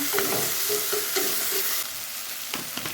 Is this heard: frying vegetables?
yes